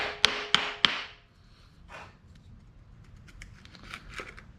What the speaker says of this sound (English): Get the old wooden hammer here.